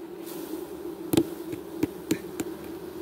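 Honeybees hum steadily as a hive frame is shaken off, with several sharp knocks and thuds of the frame against the hive over the buzzing.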